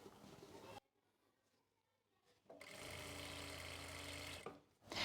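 A sewing machine stitches along the edge of a salwar strip, starting after a pause and running in a loud, steady whirring burst before stopping and briefly restarting.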